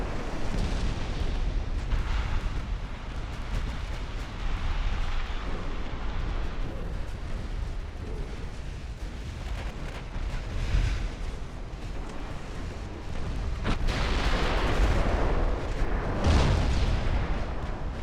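Battleships firing 18-inch guns in Ultimate Admiral Dreadnoughts, with deep booming salvos rolling over a constant low battle rumble and the heaviest blasts bunched toward the end.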